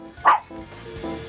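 Cotton, a pet cockatiel, imitates a dog's bark: one sharp, loud bark-like call followed by a softer second yip, with faint background noise between.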